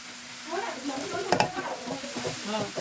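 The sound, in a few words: boiled pasta with spice mix stirred in a pan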